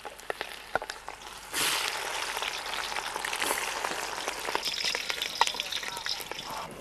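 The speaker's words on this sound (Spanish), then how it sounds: "Voy a ver a quitarlo porque si no me se va a quemar la cebolla." Onion fries in a pan over an outdoor forest cooking fire, first with scattered clicks, then a sudden broad hiss and crackle that rises and holds steady, close up with brief talk.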